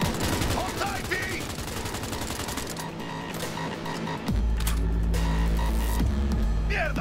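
Gunfire crackles in the video game Cyberpunk 2077: dense rapid bursts of shots with mechanical clatter, then heavier booming impacts alongside a low rumble, with brief voices mixed in.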